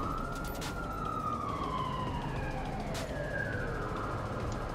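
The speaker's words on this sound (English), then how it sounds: "Why do they even allow them to keep police sirens?" A police siren wails in a video game, a loud sweeping tone gliding downward and repeating over a constant dense background rumble, with no talk.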